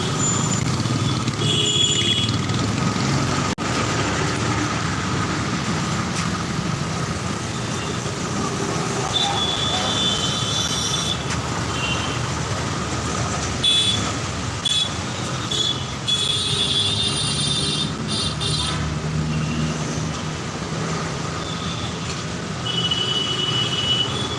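A metro train rumbles past steadily, with wheel squeal and brief high-pitched tones over continuous mechanical noise.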